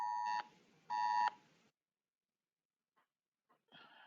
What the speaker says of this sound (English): It was an Amber Alert on the phone.